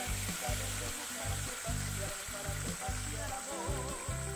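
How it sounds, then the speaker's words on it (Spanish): Water gushing from the outlet pipe of a ram pump drawing from a barrel, a continuous rushing hiss with rhythmic low pulses from the pump's cycling, fairly close. "Ahí comienza a salir el agua ya de lo que es la tubería"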